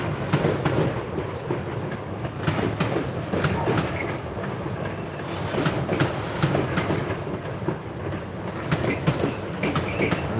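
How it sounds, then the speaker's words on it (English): Railway wagons roll past on the rails at Basford Hall Sidings in Crewe, close and loud, with steady rumble and repeated clickety-clack wheel beats and faint squeal throughout. "Nice clickety clacks."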